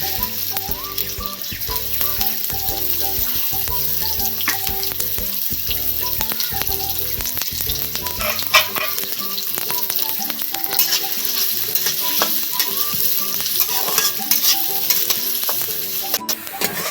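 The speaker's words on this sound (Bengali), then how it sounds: "বেরেস্তার জন্য পেঁয়াজটা ভেজে নেব।" Sliced onions deep-frying in oil for beresta, a loud, dense, continuous sizzle close by, with a rhythmic low clatter through the first half and sharp spits throughout, no voices.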